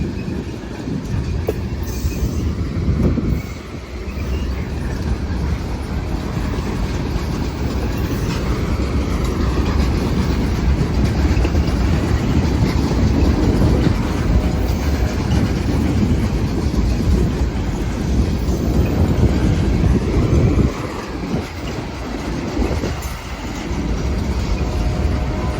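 CSX L235 freight train rolls past close to the road in Tarboro, North Carolina, a loud, continuous rumble of railcars with rhythmic clacking and brief wheel squeal, holding steady for the whole stretch with no talk.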